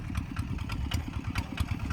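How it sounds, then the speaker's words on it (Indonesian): A hand tractor engine chugs steadily while plowing a field, with a rapid, even putter that stays close and continuous with no speech. "ada hand traktor"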